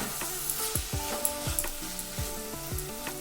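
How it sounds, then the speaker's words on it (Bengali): A spatula stirs banana flower curry with coconut, chickpeas and garam masala in a sizzling pan, making repeated rhythmic scraping strokes about twice a second over a steady hiss, fairly close, with no talk. "গরম মশলা দিয়ে একটু মিশিয়ে নিচ্ছি ভালো করে"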